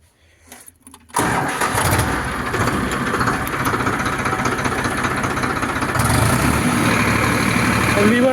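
A Farmtrac 60 Powermaxx tractor with a cultivator is nearly silent at first, then its engine starts about a second in and runs loud and close, a steady heavy rumble that grows slightly louder toward the end.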